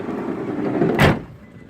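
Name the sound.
sliding door of a van closing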